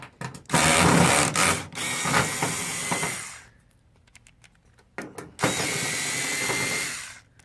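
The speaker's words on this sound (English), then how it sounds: "I'm going to use an electrical screwdriver to make it faster." An electric screwdriver removes screws from a Sharp MX-M453N copier, giving two loud, close motor whirs of about three and two seconds with a quiet pause between them.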